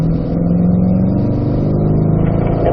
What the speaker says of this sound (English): Let's accelerate hard one time down the straightaway, and then we're going to start a cool down lap after.